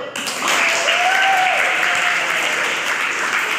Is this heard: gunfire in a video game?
no